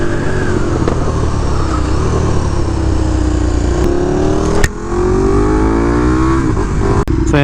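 A KTM 1290 Super Duke R motorcycle engine pulling away loud and close, a steady throaty drone rising in pitch through the gears with brief gaps at shifts.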